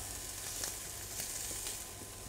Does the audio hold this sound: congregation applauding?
no